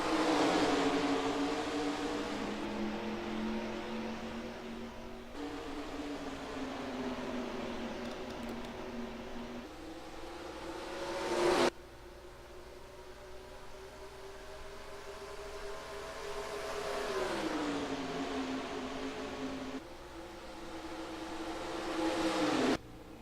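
Pennzoil Truck Series racing trucks in NASCAR Racing 2003 at Phoenix, engines droning in steady tones that climb and drop with gear changes and abrupt cuts, loud and continuous throughout.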